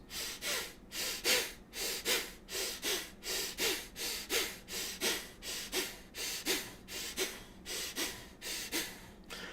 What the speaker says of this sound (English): where you are basically doing, in that sense, short interval breathing, similar to this.